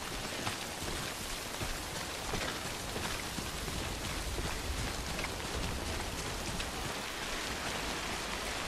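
Timefall rain in the video game Death Stranding: dense, steady hiss of rainfall pattering on surfaces, continuous and fairly quiet, with no voices.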